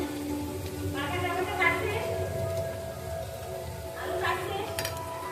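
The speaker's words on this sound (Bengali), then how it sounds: "ঘি দিয়ে সাদা তেল দিয়ে ভেজে নিচ্ছি" Rice frying in ghee and white oil in a pan, giving a steady crackling sizzle close by while a person talks over it throughout.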